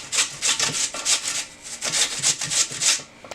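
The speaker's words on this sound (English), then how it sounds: "just hold your grater up like this and then put it on the side again" Raw potatoes are rubbed by hand over a box grater for hash browns, a close, loud, rasping scrape repeated in quick, steady strokes about every third of a second, with no talking.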